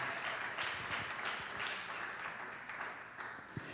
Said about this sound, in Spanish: que le dé un aplauso al nombre del Señor Jesús